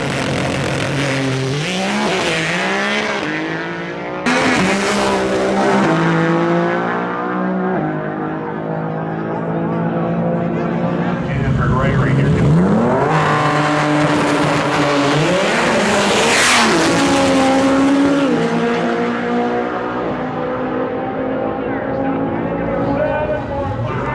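A 2300 hp all-wheel-drive GT-R drag car, about 3,900 pounds with driver, revs and accelerates loudly, pitch climbing through gear changes, with a person talking over the roar throughout.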